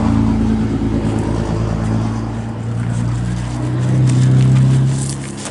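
A car engine runs loud and close with a steady rumble, then revs up and swells near the end before easing off.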